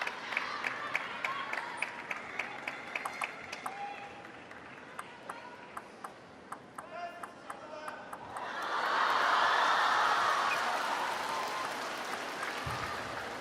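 A crowd at the Asian Cup table tennis match applauds, first with scattered, rhythmic claps and then a swelling burst of full applause and cheering that holds strong before easing slightly.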